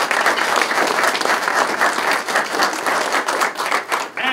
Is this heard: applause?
yes